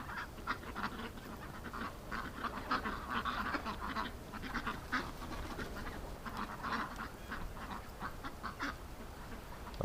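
Several ducks quack repeatedly in a winter yard, with dense, overlapping honking calls continuing steadily throughout at moderate closeness.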